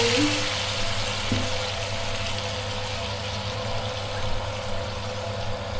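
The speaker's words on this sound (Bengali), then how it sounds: "5 বাটি জল এর জন্য দিলাম।" Water pours steadily into a cooking pot for broccoli and mushroom soup, a continuous close splashing rush with a faint low hum beneath.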